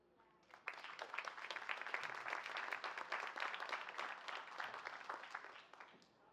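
An audience applauds after a panel discussion, with dense, steady clapping that swells after a moment, holds for several seconds, then tapers off at the end.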